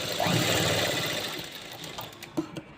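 A sewing machine runs steadily while stitching the lining of a blouse, its motor hum loud and close at first, then easing and slowing toward a few final clicks.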